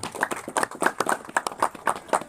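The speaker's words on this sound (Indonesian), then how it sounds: "kita berikan tepuk tangan untuk kita semuanya" Scattered hand claps from a seated audience at a Hindu community gathering at a temple in Bogor, irregular close bursts of clapping rather than dense applause, spread across the moment with a faint voice underneath.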